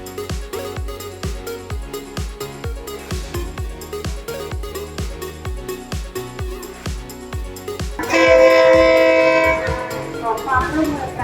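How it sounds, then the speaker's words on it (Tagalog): Train rolling through the Old Railway Market at Damnoen, Thailand, with a steady rhythmic clatter of wheels over rail joints, then a loud, sustained horn blast near the end, close by, with faint talk in the background. "inaabangan ang pagdaan ng tren"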